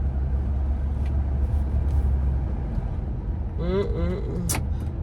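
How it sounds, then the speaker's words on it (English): A car drives on a highway, heard from inside as a steady low road rumble and engine drone, with a brief voice or tonal sound near the end. "I'm about to drive 18 minutes and it's in highway."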